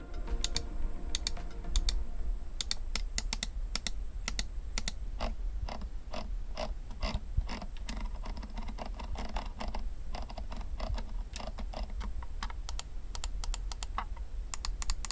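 An Alienware AW610M wireless gaming mouse being clicked and scrolled up close, giving a steady stream of sharp, irregular clicks and ticking scroll-wheel notches with no voices.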